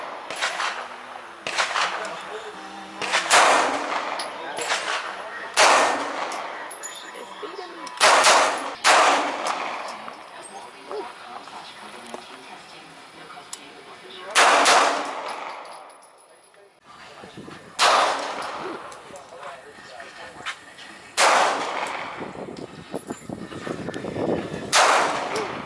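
A Hi-Point C9 pistol fires a string of loud, sharp gunshots outdoors, spaced irregularly over the span with echoing tails and a short lull near the middle, and voices can be heard faintly between shots.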